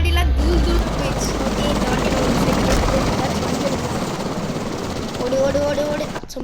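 A helicopter's rotor chops loudly and continuously in a Spider-Man video game, a dense, droning whir that holds close throughout, with faint game sounds and brief chirps layered above.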